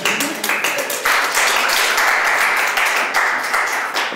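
Audience applause for a speaker at an evening talk on drugs and race, a full round of clapping with a few louder swells, loud and continuous throughout, no voices.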